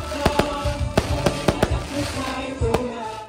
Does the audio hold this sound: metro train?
no